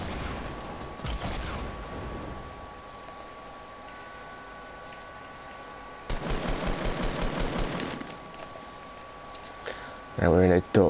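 Automatic gunfire in the Fortnite video game, a couple of fast bursts of repeated shots mid-range, with players talking over game sounds throughout.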